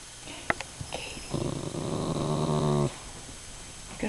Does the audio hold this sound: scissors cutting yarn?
no